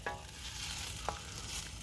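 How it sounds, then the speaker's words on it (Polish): Spaghetti boils in a pot over an outdoor campfire, giving a steady bubbling hiss with a couple of sharp pops, close and fairly quiet, with no talking. "Makaron się tam gotuje."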